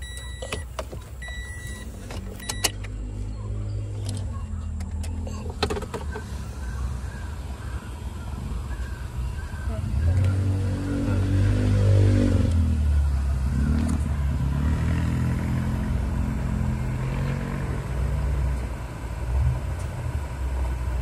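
A Toyota Vios aircon blower motor runs, rising after about ten seconds into a loud, steady droning whir mixed with rattly airflow. Earlier there are lighter clicks and a thinner background hum, and no voices are heard.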